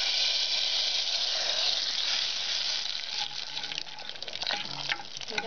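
A tempering fries in a pan for chena vanpayar erissery, made with yam and red cowpeas, giving a loud steady hissing sizzle that turns into uneven crackles and pops partway through as it is stirred, with no voices.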